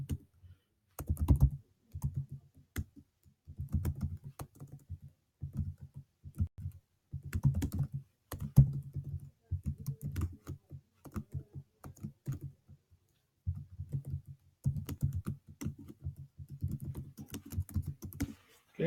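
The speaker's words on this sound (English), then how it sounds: "I'm going to type a sentence about my favorite restaurant." Bursts of quick, close computer-keyboard typing while a sentence is written in a document, irregular clusters of clicks and keystrokes separated by short pauses, with no voices.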